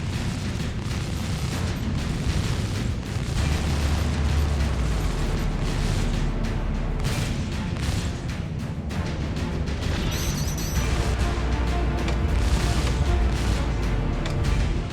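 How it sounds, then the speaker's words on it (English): Missiles launching and detonating in Star Citizen space combat, with a Vanguard Sentinel fighter against support ships, form a loud, continuous rumble of deep booms and bursts across the whole stretch, with no talk over it. "Launching missiles as they approached"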